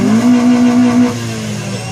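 A Honda Civic coupe at a 2014 Japanese car meet in Ljubljana, Slovenia, with its exhaust holding a loud, steady rev for about a second before dropping back to a lower idle.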